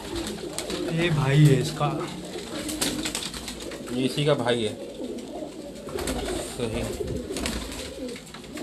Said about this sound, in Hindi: इन तमाम कबूतरों का हम आपको कलेक्टिवली यहाँ पे शौक करवाएंगे, उसके बाद इनको आज़ाद करके भी दिखा देंगे